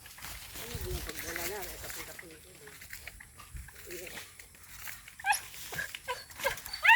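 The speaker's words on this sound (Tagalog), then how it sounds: "Ang pinakamakulit na aso ito oh." A dog whines and yips nearby in short bursts, with people talking quietly in Filipino in the background.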